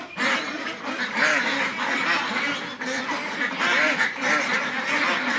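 A flock of Vigova meat ducks quacks steadily and loudly close by, many overlapping calls forming a dense, continuous chorus with no pauses.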